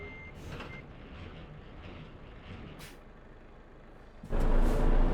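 A truck engine in a trucking video game rumbles steadily with faint reversing beeps, then a loud hiss of air brakes bursts in near the end.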